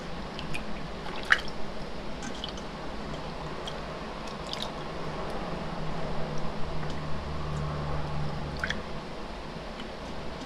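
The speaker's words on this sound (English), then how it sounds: "And then transfer them into the pot of water by scooping them out" Plants are set by hand into a pot of water for natural dyeing, giving soft wet drips and small splashes scattered over a quiet, low background.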